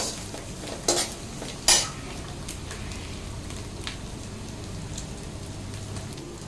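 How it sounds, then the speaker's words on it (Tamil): Onions sauté in a pan for hotel-style fried rice, a steady soft sizzle broken by two sharp scraping clatters of a spoon early on and lighter stirring taps afterward. "நல்லா வதக்கி விட்டுடலாம்."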